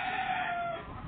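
A hen, a black-faced, black-legged bird, gives one sustained, close, fairly loud call lasting about a second, with no voices over it.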